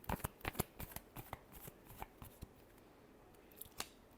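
Tarot cards are shuffled in a quiet room, a quick series of soft, crisp riffling flicks at close range, faint overall, with no talking.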